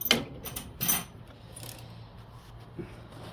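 A crescent wrench loosening a 7/16 fitting on a Rheem water heater's igniter and thermocouple assembly, giving a few close, quiet metallic clicks and clanks followed by a faint tap.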